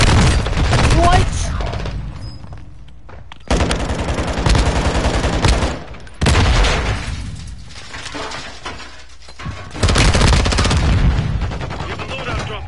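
Video game gunfire in a live PS4 match, loud bursts of shots and rattling fire coming in waves with short quieter gaps between them.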